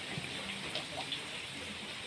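Heavy rain pours steadily as an even, hissing wash with no breaks, moderately faint and unaccompanied by voices.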